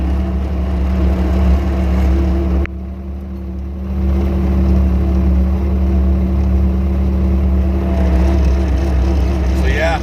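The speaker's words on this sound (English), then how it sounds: "CP brought the tractor down and I'll unload with the tractor." A tractor engine runs at a steady, loud, close idle while bales are unloaded, a continuous low drone with a brief dip and no clear speech.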